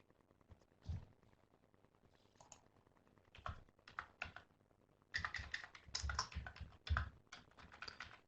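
A computer keyboard is typed on in short bursts of quiet, close key clicks, with a pause before a denser flurry of taps. The typing is in Arabic, and there is no talking.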